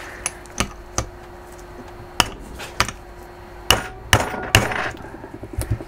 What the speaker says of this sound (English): I'm going to just bosh a lump hammer on the end of this.